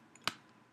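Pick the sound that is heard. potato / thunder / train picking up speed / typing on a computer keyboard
typing on a computer keyboard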